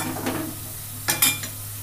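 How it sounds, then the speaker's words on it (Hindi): Onions stir-fried in a kadai for kadai paneer, a soft steady sizzle broken by a few quick scrapes of a spoon against the pan, close by. "प्याज को अच्छे से भूनना है ताकि इसका कच्चापन निकल जाए।"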